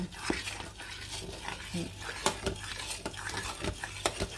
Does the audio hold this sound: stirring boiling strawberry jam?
yes